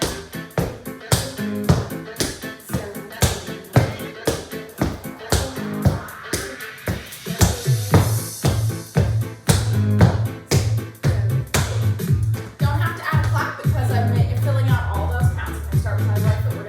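Tap shoes on a hard floor working a four-sound staccato riff walk, with crisp, evenly spaced taps in a steady repeating rhythm, close and loud, over a backing music track.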